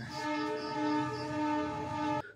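A loud, sustained train horn blares continuously for a couple of seconds, a steady chord with no talking, cutting off abruptly at the end.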